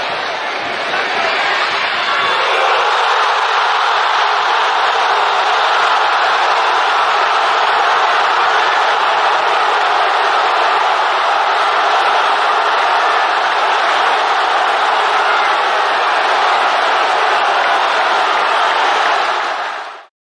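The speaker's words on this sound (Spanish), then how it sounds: "¡Qué ovación para Campás, Santo!" A roaring stadium crowd gives a sustained ovation for Colombian striker Jaminton Campaz after his goal for Rosario Central, a dense wall of cheering that swells within the first couple of seconds and holds loud and steady throughout.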